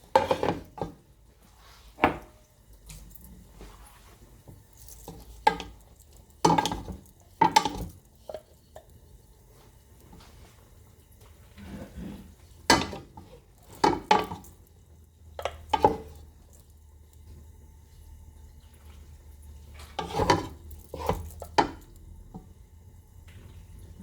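Noodles dropped into a pot of chicken and egg soup and stirred, giving a series of separate clanks, scrapes and wet squishes at a close, moderate level with quiet gaps between them.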